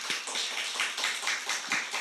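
Steady, dense applause from a church congregation welcoming a missionary, many hands clapping in an even rhythm throughout, fairly close and full, with no voices over it.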